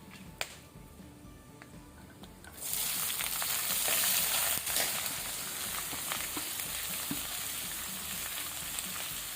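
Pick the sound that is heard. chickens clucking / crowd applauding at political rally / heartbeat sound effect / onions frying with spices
onions frying with spices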